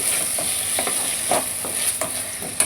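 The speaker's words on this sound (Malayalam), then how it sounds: "തക്കാളി മുറിച്ചിട്ടും കൂടി ഇട്ട് നല്ലോണം കുറച്ച് നേരം ഒന്ന് വഴറ്റുക." Chopped tomatoes are sautéed in a pan with a steady soft sizzle and hiss. Several brief spoon-stirring scrapes stand out against the sizzle, and no one speaks.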